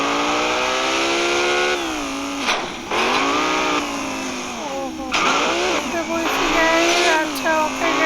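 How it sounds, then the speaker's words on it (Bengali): A motorbike in the video game GTA 5 revs and rides off, its engine whining up and down through repeated rising and falling gear pulls, with a voice talking over it. "বাইকটা নিয়ে আমি এখন সোজা বের হয়ে যাব।"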